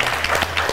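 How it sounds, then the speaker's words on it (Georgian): A studio audience claps at a student quiz show, a very brief burst of dense applause. "აპლოდისმენტები"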